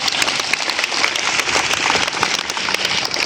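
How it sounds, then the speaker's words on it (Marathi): Loud, dense applause welcoming foundation members at a school event where students receive bags and supplies, a sustained, even patter of many hands clapping with no talk. "गीत फाउंडेशनच्या सर्व मेंबर्सचं अजून एकदा जोरदार टाळ्या वाजवून स्वागत करतो।"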